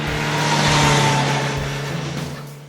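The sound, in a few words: sport motorcycle engine revving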